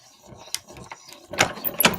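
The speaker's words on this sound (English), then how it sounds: "I'm going to cut this out." A die-cutting machine feeds a stencil die placed blade side up, giving a short run of mechanical ratcheting clicks and grinding gear noise that grows louder toward the end, with no talking.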